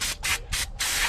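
Several short bursts of brake cleaner spray hiss close by onto a new brake rotor of a Ford F-150, four quick pulses with brief gaps, the last one slightly longer.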